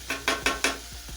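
Peppers and onions for veggie fajitas fry in a skillet with a constant close sizzle, marked by four quick rhythmic bursts of stirring and two soft knocks against the pan.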